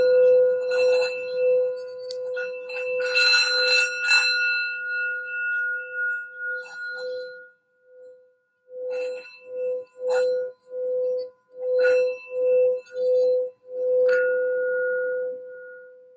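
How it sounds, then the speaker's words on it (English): A sound bell rung for a sound bath gives a long, clear ringing tone that slowly fades, followed by a series of shorter repeated strikes, each ringing briefly, heard alone and close. "let's do a quick sound bell here before we start"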